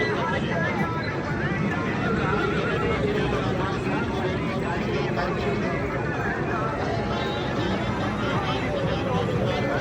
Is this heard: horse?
yes